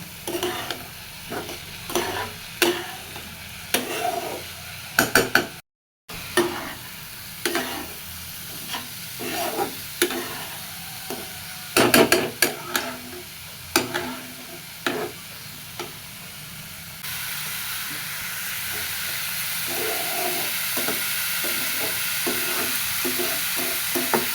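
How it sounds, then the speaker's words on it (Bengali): Red lentils with turmeric and salt fry in a pan, a rhythmic series of spatula scrapes and taps over a low sizzle, briefly cutting out, then settling into a steadier, louder hiss toward the end. "লবণ দিয়ে খুব সুন্দর মতো ডালটা ভেজে নিব"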